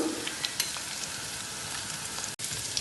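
Ground spices (turmeric, garam masala, black pepper and chili powder) roast in a hot pan for chicken curry, giving a steady, close, quiet sizzle with a few small crackles and a brief gap near the end.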